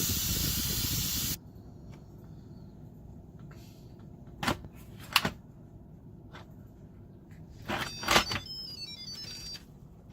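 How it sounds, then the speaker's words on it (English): An Instant Pot pressure cooker vents steam in a loud, close hiss that cuts off abruptly after about a second, followed by quiet kitchen clatter and a few sharp knocks and clicks. "So I'm gonna release the"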